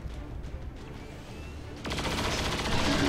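Gunfire from the XCOM 2 video game erupts partway through as a dense, loud burst of shots that sustains to the end, following a quieter stretch of ambient game sound.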